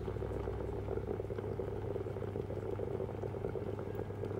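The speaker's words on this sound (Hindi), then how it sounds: "ये चेक करें अंदर से ना पानी बॉयल होने लग गया," Water boils inside an electric egg boiler that doubles as a vegetable and chicken steamer, giving a soft, steady bubbling rumble at close range, faint and continuous with no talking.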